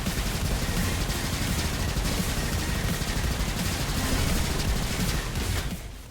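Steady dense gunfire from the video game Roboquest, a continuous loud rattle of rapid shots with no gaps, fading slightly at the very end.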